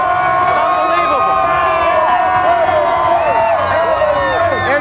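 Phillies fans at the 2008 championship parade cheer and shout in a dense, loud crowd roar, with whistles and overlapping voices rising and falling continuously around the listener.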